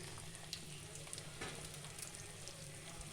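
Besan (gram flour) frying in spiced oil while being stirred makes a faint, steady sizzle with occasional soft scraping of the spoon against the pan.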